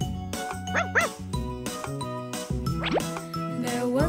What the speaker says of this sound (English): There was a farmer had a dog, and Bingo was his name-o